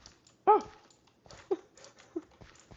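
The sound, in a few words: pug dog whimpering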